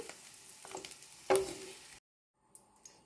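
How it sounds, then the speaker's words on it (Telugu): Onions and capsicum frying in a pan over a low flame, a soft close sizzle with light crackles and one sharper clatter, then brief silence before faint sizzling resumes. "లో ఫ్లేమ్ మీద ఆనియన్స్ రంగు చేంజ్ అయ్యేంత వరకు ఫ్రై చేసుకోవాలి"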